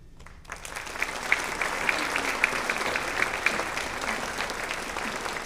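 An audience at a youth citizenship awards ceremony bursts into applause after a short pause, a dense and steady wash of many hands clapping that carries on throughout.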